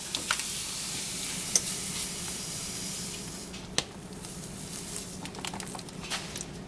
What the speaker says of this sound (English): I'm going to put 3 cups of sugar inside of a separate bowl